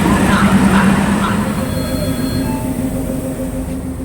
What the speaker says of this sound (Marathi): अरे बघा ही आहे ट्रेन